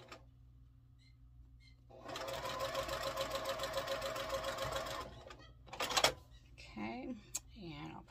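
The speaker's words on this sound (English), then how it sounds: "And just sew this piece to this piece and this piece to this piece." A sewing machine stitches quilt block pieces together in a steady, fast mechanical whir lasting about three seconds, followed by clicks and handling noises, with a voice speaking at the end.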